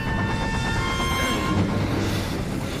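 Train from a Harry Potter film scene, loud rushing rumble of rail cars with a sustained horn-like tone and rattling, continuous and close, no talk over it.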